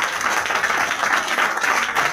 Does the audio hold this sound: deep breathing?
no